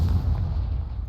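Confringo blasting spell bursting in Hogwarts Legacy, a deep rumbling boom that holds steady and loud for the whole moment, heavy in the low end with no voices over it.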